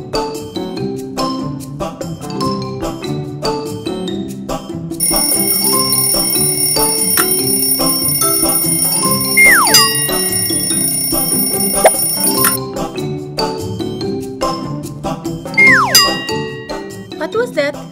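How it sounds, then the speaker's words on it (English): A school alarm rings in a steady, bright electronic tone lasting several seconds, with clinking toy sounds and short chirps around it; people talk before and after. "That was my school alarm."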